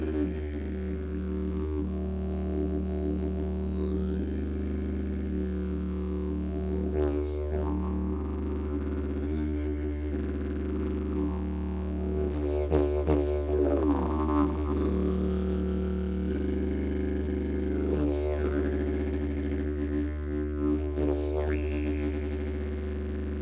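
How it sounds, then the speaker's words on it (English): A didgeridoo droning a steady low fundamental while the player's voice sings near the same pitch, slowly sliding so the tones pulse in and out of phase, with sweeping overtone shifts across a sustained, moderately quiet note. "your voice and the didge itself, come in and out of phase, and you can actually play with that by slowly varying your pitch"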